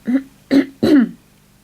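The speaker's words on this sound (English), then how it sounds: "I just need to cough" Three short, rough coughs in quick succession, close by, followed by quiet.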